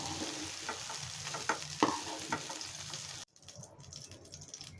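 Eggplant pieces frying in hot oil in a pan, a busy sizzle with a few sharp pops and stirring clatters, cutting off abruptly to a quieter background with light scraping.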